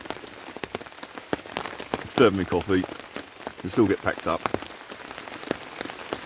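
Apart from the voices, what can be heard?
rain falling on a camp in the woods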